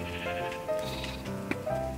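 Repeated sheep bleats from the video game Sheep Quest, several drawn-out cries overlapping one another against a steady background of in-game ambience and music.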